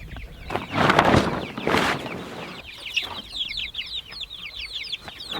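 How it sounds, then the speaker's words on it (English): Four-week-old chicks cluck and peep nearby, with soft, scattered high chirps and clucks in quick runs over some louder rustling and handling noise. "So chickies."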